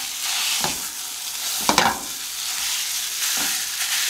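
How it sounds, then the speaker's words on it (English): Ground sausage sizzles loudly and continuously in a heated pan while being stirred and broken apart, with a few sharper scraping stirs across the steady frying hiss. "I'm gonna go ahead and add in my sausage to my heated pan. And you're just going to simply cook this through and break it apart."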